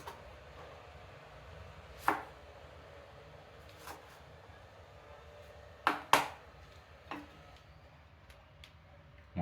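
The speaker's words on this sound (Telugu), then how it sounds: "ఒక చెక్కని 4 ముక్కలుగా కోసుకోండి." A knife chopping raw green mango on a board, a piece cut into four: a few sharp, separate chops with pauses between them, fairly close and clear over a quiet kitchen background.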